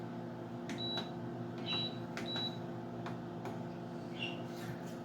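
A slow cooker switched to its saute setting gives several short, high electronic beeps at a steady pitch, spaced apart over a low background hum in a quiet kitchen.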